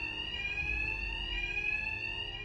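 An alarm blaring inside a building in the video game Batman: Arkham Knight, a continuous, loud electronic ringing tone with a low rumbling bed beneath it and no voices.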